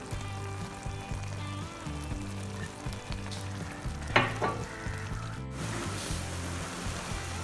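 A pan of noodles sizzles steadily as soy sauce is poured in, giving a continuous close frying hiss with a brief louder burst midway and a clatter of stirring.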